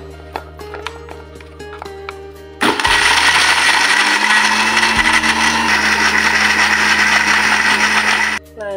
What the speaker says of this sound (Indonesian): kita masukkan yang bumbu tadi kita tumis ke dalam blender, kita haluskan